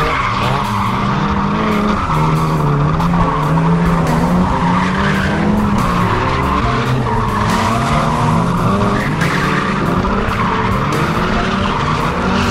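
A Mk2 Ford Escort drifts at a drift day, its engine revving hard while the tyres squeal and scrub continuously, loud and close, with no talking.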